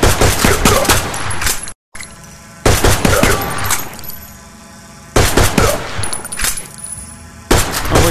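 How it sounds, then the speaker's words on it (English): Pistol shots in a VR shooter game ring out in several loud, sharp bursts, with quieter stretches between volleys and no talking. "Take a pistol and shoot 7 times."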